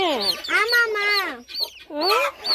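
A hen clucks repeatedly near newly hatched chicks, with rising and falling calls in bursts, close and clear, with brief gaps between the calls.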